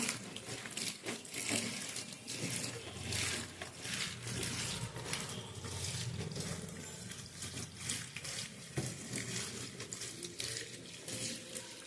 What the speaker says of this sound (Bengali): আমি কল চালিয়ে দিয়েছি কল চালিয়ে ভালো করে ধুয়ে নেবো